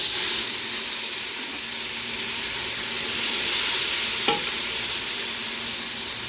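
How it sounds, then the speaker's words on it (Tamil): Masala frying in hot oil in a cooking pan, a steady broad sizzle and hiss that holds throughout with one brief clink of a utensil near the end, no voices. "பாத்திரத்தில் எண்ணெய் சேர்த்தாச்சு. இப்போ இதில் மசாலா சேர்க்கணும்."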